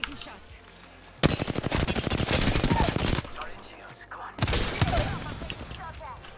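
Gunfire from the Wingman revolver in Apex Legends, loud dense bursts of shots in two stretches separated by a quieter gap, with someone talking over the game action.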